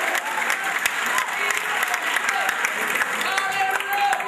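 A church congregation claps steadily through an Easter service, a dense, continuous wash of applause with voices mixed in beneath it.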